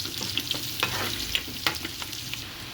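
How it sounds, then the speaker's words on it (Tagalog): Garlic and onion sautéing in a pan for pork chop adobo, with a steady close sizzle and occasional scrapes and clinks of a spatula stirring, no voices. "At sinimulan na natin gisahin ang ating bawang at sibuyas."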